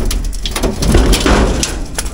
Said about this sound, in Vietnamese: mấy bữa nay nó mưa liên tục mưa